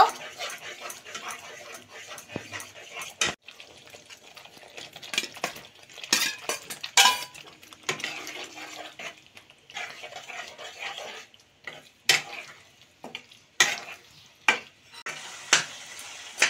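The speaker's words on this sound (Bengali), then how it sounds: "বিরিয়ানির মশলা 1 চামচ দিয়ে দিচ্ছি। আর এরই সাথে এবার মাছটা আমি দিয়ে দেব।" Fish is added to biryani spices in a frying pan and stirred, giving soft scraping and clinking utensil sounds over a faint sizzle, with sharp knocks recurring toward the end.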